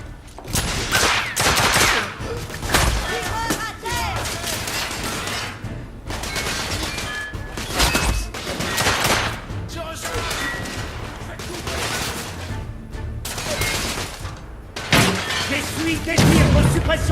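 Heavy suppressing gunfire in the video game The Order 1886 comes as loud, dense, close bursts of shots and impacts, with brief lulls between volleys throughout.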